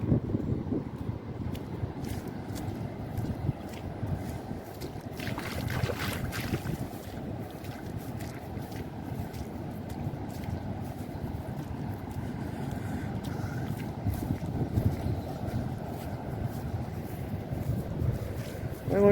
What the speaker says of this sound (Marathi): त्या समुद्राचा आवाज बघा किती येतोय